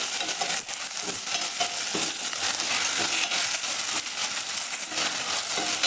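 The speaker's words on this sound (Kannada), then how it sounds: "ಇವಾಗ ಟೊಮೆಟೊ ಆ್ಯಡ್ ಮಾಡ್ಕೊಳ್ಳೋಣ ಚೆನ್ನಾಗಿ ಮಿಕ್ಸ್ ಮಾಡಿ" Chopped tomatoes stirred into an egg sambar masala frying in a pan: a steady sizzle with scraping and stirring that runs continuously at moderate volume, with no talk.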